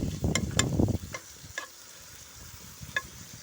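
Bacon stirred in a pan outdoors on a windy day, a burst of scraping and spattering sizzle at the start settling into a quieter hiss with a few sharp crackles.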